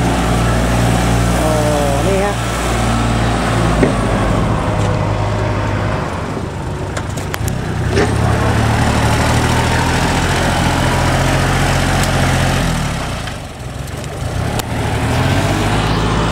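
Two farm tractors run at a roadside during a flower-planting activity, heavy low engine rumble idling close by while people talk over it.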